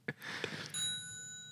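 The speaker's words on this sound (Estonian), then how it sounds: "aga meil mingi telefon heliseb" A mobile phone starts ringing partway through with a bright, sustained electronic ringtone, fairly faint, after a few brief knocks and rustles.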